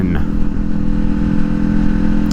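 A Kawasaki Ninja 500 motorcycle engine runs hot on a warm day, a loud, steady, close idle hum with a constant low drone and no talking.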